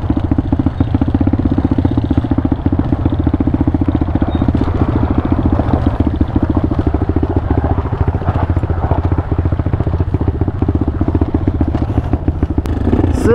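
A 2023 Pitster Pro 190fse dirt bike is ridden off-road in the mountains, its engine a loud, continuous, rapid-firing drone close to the mic with clattering and scraping from the terrain throughout.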